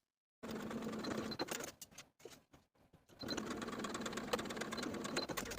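A sewing machine stitches a top's shoulder seam at a half-inch allowance, running in a steady close whir, stopping for a moment with a few short bursts, then resuming at full speed.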